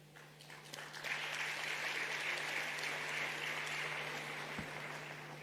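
Applause from the audience at a summit in Nairobi's KICC, greeting the unanimous adoption of the Nairobi declaration: a steady, moderately distant wash of clapping that swells after the first second and carries on evenly to the end, with a faint low hum beneath.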